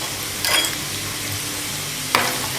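Half a teaspoon of asafoetida drops into hot oil with chopped garlic for a Rajasthani mixed dal tadka, giving a steady close sizzle marked by two brief bursts of stirring.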